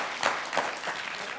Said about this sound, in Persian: تشویق کړئ دوستانو